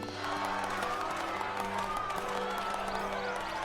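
A crowd cheers and applauds in Final Fantasy 14, a dense, continuous wash of voices and clapping with music underneath.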